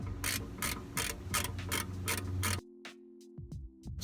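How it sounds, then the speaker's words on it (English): A ratchet wrench loosens a screw on the transmission pan of a 2005–2009 Ford Mustang, giving a quick run of crisp, evenly spaced clicks, then a pause and a few slower, fainter clicks, all close by. "Now I can start by loosening this screw up here."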